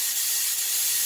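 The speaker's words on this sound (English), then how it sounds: "You can hear it, the steam coming out." A pressure canner, sealed and pressurizing with a bit too much water inside while pepper jelly is being canned, vents steam in a loud, steady, continuous hiss throughout.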